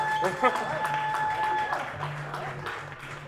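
Applause for a tennis team at an awards banquet, a moderate round of clapping from a seated crowd with voices and cheers mixed in.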